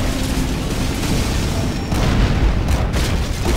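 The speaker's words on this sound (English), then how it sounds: "Tomahawk launcher armed and ready." A Tomahawk missile launch in the video game Shockwave, heard as a loud, continuous roaring boom that fills the whole stretch and swells slightly partway through.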